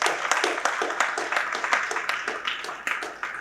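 A church congregation breaks into a long, dense round of applause during a Spanish-language sermon, the many hands clapping steadily and fairly loudly for several seconds with no voice rising above them.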